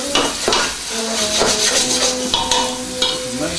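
Onions frying in a pan as the base for a spicy meatball sauce, a steady crackling sizzle with a few scraping stirs and light clinks of utensil on pan throughout.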